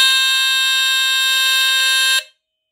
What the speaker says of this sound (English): let's give it a test and see if it sets off the smoke alarm center over there in my room